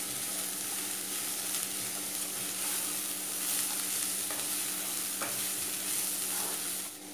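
Schezwan veg Hakka noodle mix with black and white pepper being tossed in a hot wok: a continuous loud sizzle with occasional light scrapes and clinks, no talking.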